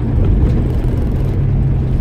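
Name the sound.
1969 Mustang engine accelerating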